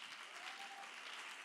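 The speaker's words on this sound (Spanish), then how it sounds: "Aplauso." Brief burst of audience applause after a bilingual talk, a soft, steady wash of clapping heard from a distance, quiet and continuous throughout.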